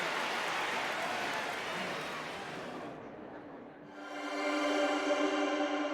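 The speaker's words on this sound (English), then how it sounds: "I needed the sound of applause again." A crowd in an anime arena applauds in a broad, steady roar that slowly fades, and then a bright sustained tone takes over.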